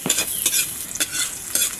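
Garlic and onion sauté in a pan, bright crackling sizzle with several quick stirring scrapes in bursts, close and fairly loud, without talk.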